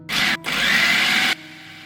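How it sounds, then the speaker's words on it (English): A food processor pulsing soaked dal into a coarse mix gives two loud, close bursts of whirring motor, a short one then a longer one of about a second, before cutting off to a low hum. "So we're going to pulse the dal, grind this dal to a coarse mix."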